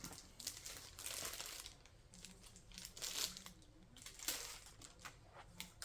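Crinkling plastic and paper packaging torn and crumpled while unboxing a knife with a Kydex sheath, a steady close run of rustles and crunches with louder bursts, no talking.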